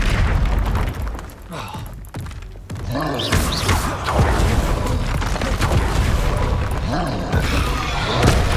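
Spell effects in Hogwarts Legacy as Expelliarmus is cast: a burst of booming magical impacts and whooshes, loud and dense, with game music and a voice shouting over them.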